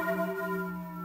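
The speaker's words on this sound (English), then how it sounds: "The sound of the bell keeps ringing in my head." A steady bell tone rings on with sustained harmonic partials in Final Fantasy Crystal Chronicles: Ring of Fates, a single continuous resonant chime heard alone with no voices.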